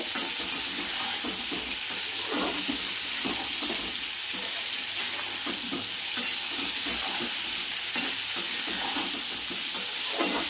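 Pointed gourd, potatoes and parshe fish fry in oil with a little salt, a dense steady sizzle and hiss close up, punctuated by regular soft stirring scrapes over the whole stretch, no talking.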